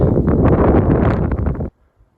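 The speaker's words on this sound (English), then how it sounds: "Getting a little breezy." Gusty wind buffets the microphone on the granite summit of Cedar Swamp Mountain in Acadia National Park, a loud close rumbling roar lasting under two seconds before cutting off into near silence.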